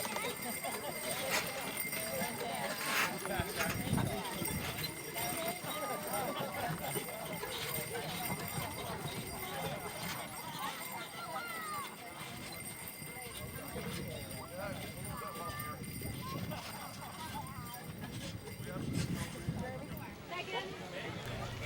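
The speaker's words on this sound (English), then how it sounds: "Norwegian forge horses are used to pull the wagon full of riders." Norwegian Fjord horses' hooves clip-clop steadily as they pull a wagon full of riders at a Victorian Christmas event, with people chattering and voices throughout, a busy outdoor scene at moderate distance.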